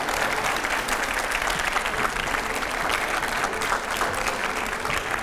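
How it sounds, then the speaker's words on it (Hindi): Sustained audience applause welcoming Union Minister Meenakshi Lekhi to a televised editors' panel, a dense, steady clatter of many hands at even volume with no speech over it. "जोरदार तालियों से स्वागत है।"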